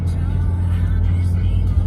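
A Ram 3500 pickup truck with a transmission tune drives along, its steady low engine and road drone continuous and fairly loud throughout, with no audible shift or rev change.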